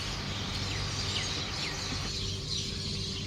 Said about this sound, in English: You could hear the birds singing, so relaxing.